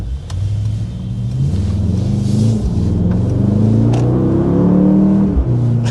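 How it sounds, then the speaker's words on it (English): A 2024 Mercedes-AMG GLS 63 V8 SUV accelerates with a steady, loud engine rumble whose pitch climbs through crisp 9-speed automatic upshifts, heard from inside the cabin with no talking. "the 9-speed automatic on board really shifts very crisply"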